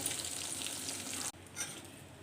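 Coriander seeds, cumin and urad dal sizzle in hot oil, a steady crackling fry that cuts off abruptly midway and then resumes more softly, with no talking.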